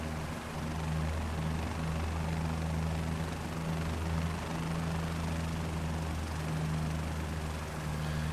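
A helicopter in a flight video game makes a constant rotor and engine drone with a steady low hum that wavers slightly. There is no speech.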